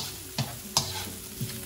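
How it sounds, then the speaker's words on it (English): Onions sizzle in a pan of hot oil, a steady frying hiss with a few sharp stirring clacks of a utensil against the pan, close and alone with no voices. "So I'm gonna drop some onions. We wanna hear that sizzle."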